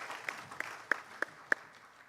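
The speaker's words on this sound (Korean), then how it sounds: "하나님께 영광의 박수를 올려드리겠습니다." A church congregation claps during a Sunday afternoon worship service. The clapping is quiet and sparse, with about five distinct claps spaced roughly evenly over a soft background.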